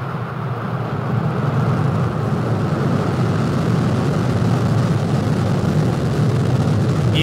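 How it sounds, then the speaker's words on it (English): Falcon 9 rocket engines roar at liftoff on a Saturday Dragon 2 capsule launch, a loud, steady, broadband rumble that holds constant from start to finish with no speech over it. "Ignition, liftoff."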